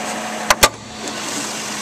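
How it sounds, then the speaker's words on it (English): A 2008 Chevrolet Tahoe Hybrid with its Vortec V8 idles quietly under an open hood, a low steady hum that follows two sharp clicks near the start. "You will notice how quiet this motor is."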